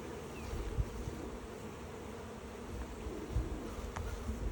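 Steady, low insect buzzing from many honeybees at a hive, fairly faint and continuous, with a few slightly louder swells as individual insects pass close.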